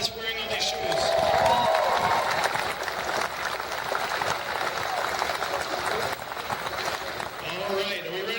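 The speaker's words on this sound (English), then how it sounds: "let's give them all a round of applause for wearing all these shoes" A crowd applauds for contestants wearing shoes at a show, a sustained wash of clapping and cheering mixed with voices.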